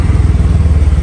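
Motorcycle engine running steadily while being ridden, a close, loud, rhythmic low putter with slight clattering throughout, no voices.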